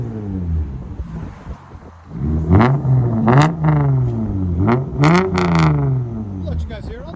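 A 1995 Toyota Camry 3.0L V6 fitted with a turbo resonator revs up and down repeatedly, a loud, close engine note climbing and falling in pitch through several throttle blips with wind noise.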